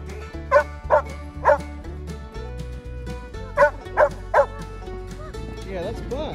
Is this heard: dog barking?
yes